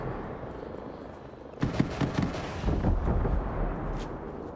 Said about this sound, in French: T'as tout explosé là.